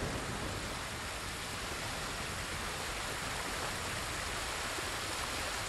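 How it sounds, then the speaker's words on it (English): Broad, steady roar of a waterfall in the Ghost of Tsushima video game, rushing water filling the whole scene at constant loudness with no voices. "Investigate the waterfall."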